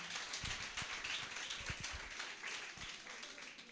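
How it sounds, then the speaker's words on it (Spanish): Clapping from students in a class, applauding two groups, fairly faint and distant, a dense patter with a few louder nearby claps and low thumps. "un fuerte aplauso para los dos grupos"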